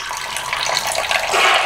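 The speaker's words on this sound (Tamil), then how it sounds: "இப்போ இதில் பார்த்திங்கன்னா ஒரு 1/4 கப் அளவுக்கு நம்ம தண்ணி சேர்த்துக்க போகிறோம்." Water pours into a container of lemon juice during lemon rice prep, a short splashing gush that builds louder toward the end, close up and without speech.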